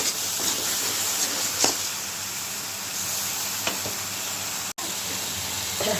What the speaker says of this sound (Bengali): তো মশলাটা কষিয়ে নিলাম ভালো করে